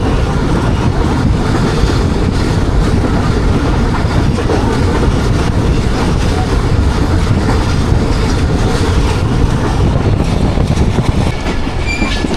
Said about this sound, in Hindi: नवाब शाह से थोड़ा पहले ट्रेन कुछ इस स्पीड में दौड़ रही है।